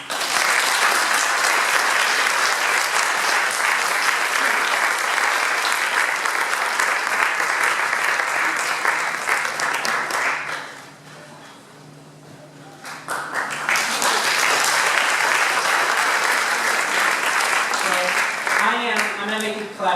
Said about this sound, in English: I'm going to make you clap a couple more times.